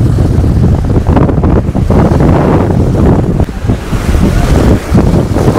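Ocean waves surge and crash forcefully onto a Goa beach with constant wind buffeting the microphone, forming a dense, loud roar throughout with no voices.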